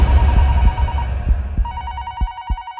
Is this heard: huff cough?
no